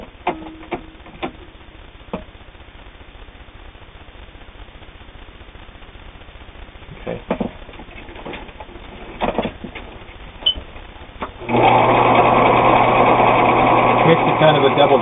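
A Husqvarna Viking Optima 150 sewing machine runs a flat lock stitch, its loud steady motor whir kicking in near the end after scattered quiet clicks and handling noises.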